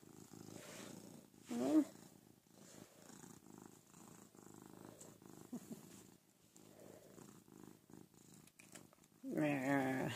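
A cat purrs close up while being brushed, a soft, rhythmic rumble, with a couple of brief louder meows or vocal bursts breaking in.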